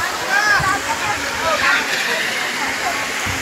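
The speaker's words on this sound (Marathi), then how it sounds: "मित्रांनो इथं बघू शकता धबधबा चालू झालाय." A waterfall flowing on Anjaneri mountain near Nashik, a steady loud rushing roar of falling water that fills the whole stretch without a break.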